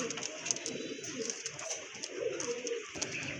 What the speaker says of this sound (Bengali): এখানে কিন্তু সেই লেভেলের এক জোড়া কবুতর আছে